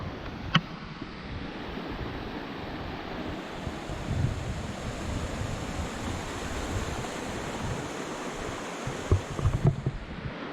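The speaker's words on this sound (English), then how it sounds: "Here are the falls" Waterfall in Baxter State Park, New England, heard as a steady broadband rush of falling water mixed with wind buffeting the microphone, constant throughout with a few brief knocks.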